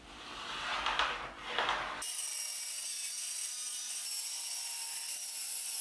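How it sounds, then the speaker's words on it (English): A hand saw cuts through a sheet of plywood in a workshop, rapid rasping strokes close by, giving way to a steady bright grinding buzz for the latter part. "then cut this with my saw"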